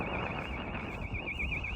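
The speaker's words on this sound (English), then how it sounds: "I think someone's house alarm's gone off." A house alarm goes off somewhere on a coastal walk in Kent, its warbling electronic siren tone heard faintly at a distance over steady outdoor wind and ambient noise.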